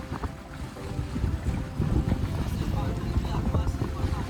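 A sailboat pushes through choppy head-on waves near Preveza, with waves slapping against the hull and wind buffeting the microphone while people talk over it.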